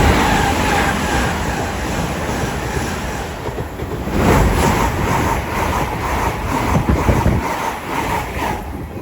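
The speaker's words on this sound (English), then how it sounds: "There goes a Great Western Railway service bound for London Paddington." A Great Western Railway train on the Great Western Main Line rushes through West Ealing station without stopping, a loud, close, broadband roar with rhythmic wheel thumps and wind buffeting throughout, no talk.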